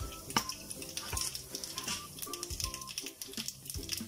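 Crackling, popping bursts of cumin, mustard seeds, urad dal and chana dal sizzling in hot oil, sharp irregular snaps over a steady hiss, close by.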